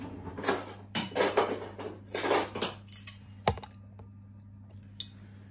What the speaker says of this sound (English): All right, let's put it on a plate. Chop it open and see what we've got.